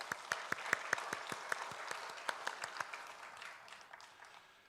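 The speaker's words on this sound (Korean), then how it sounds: "우리 다시 한번 박수 한번 할까요?" A church congregation at a Sunday afternoon service claps with brisk, crisp applause that gradually thins and fades toward the end.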